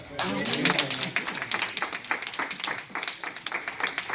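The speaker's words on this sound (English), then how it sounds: "A round of applause." Audience at a retirement celebration clapping in a looser, patchier patter of individual hands, with voices and cheering mixed in throughout.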